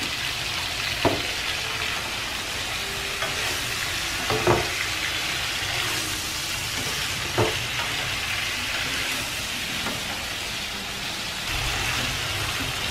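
Tofu and tomato stir-fried with seasoning in a pan for bún riêu, a constant crackling sizzle broken by several soft spatula scrapes and taps.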